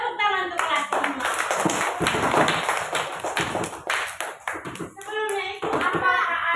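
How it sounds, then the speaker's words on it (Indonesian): Scattered clapping from a group of fifth-grade children in a classroom, dense and uneven, with some voices chattering through it. "Tepuk tangan untuk kelas 5."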